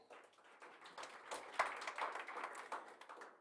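Scattered clapping from an audience at a Dr. Hage Geingob Cup event after a vocal performance, quiet and somewhat sparse, with a single sharper clap standing out near the middle.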